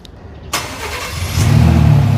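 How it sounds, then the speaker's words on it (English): A Ford Bronco engine cranks and catches after a short quiet moment, then settles into a loud, steady low rumble close by, with no one talking. "the Bronco is a noisy car compared to other cars"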